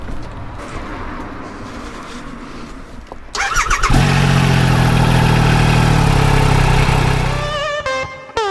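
A motorbike engine cranks and catches around the four-second mark, then settles into a loud, steady idle close by, with outdoor background noise before the start and a brief rev near the end.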